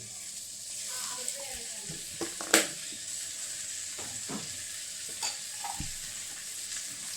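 Oil poured into a hot pan gives a steady, fairly faint sizzle and hiss, with occasional clinks and one sharper knock.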